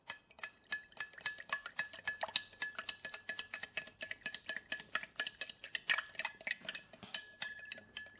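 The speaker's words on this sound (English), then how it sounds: "Next, I want to stir this really good." A spoon stirs a cocktail briskly in a glass, making a rapid run of bright, close clinks and ticks at an even rhythm for several seconds, with no voices.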